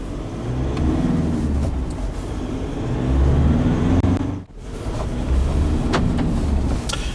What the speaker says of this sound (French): Alors il a un ralenti assez élevé, on est proche de 1000 tours minute.